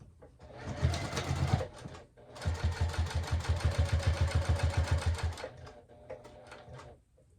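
A sewing machine stitches slowly through a thick wristlet clutch at long stitch length, two bursts of rapid, even needle thumping close up, separated by a short pause, fading to quiet at the end.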